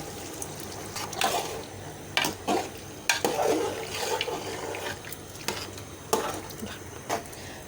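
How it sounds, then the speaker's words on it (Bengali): Broth poured into a pan of mixed vegetable curry (labra) as it cooks, a steady liquid pouring and sizzling wash with several louder splashing surges, fairly close and with no talking. "দেওয়া হচ্ছে ঝোল"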